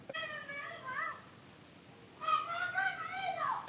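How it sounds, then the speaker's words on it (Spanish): Turkeys gobble in harmonic bursts behind a home garage, one call early on and a longer, louder run of gobbling toward the end, with faint background noise. "pavos que van dando por ahí atrás"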